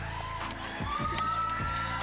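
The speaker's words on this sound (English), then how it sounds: "One last round of applause" A college audience at a mock rock show applauds and cheers, a dense, steady wash of crowd noise with a voice rising over it partway through.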